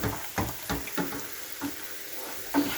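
Thickening tomato curry sauce, part of a basic Indian takeaway-style sauce, cooking in a pan: a steady low sizzle broken by several soft bubbling pops and stirring scrapes at irregular intervals.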